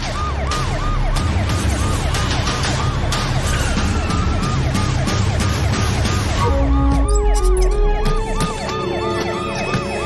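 A police car siren wails loud and close, its rising and falling tone repeating steadily throughout, with a second siren pattern cutting in near the end.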